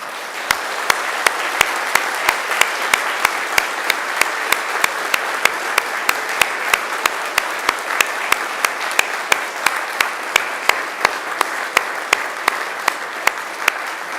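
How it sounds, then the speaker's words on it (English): Graduates at a Macquarie University graduation ceremony turn to applaud their families and friends: loud, sustained applause from a large hall crowd, steady for the whole stretch, with sharp individual claps standing out regularly above the dense wash. "it's time to give them a mighty round of applause"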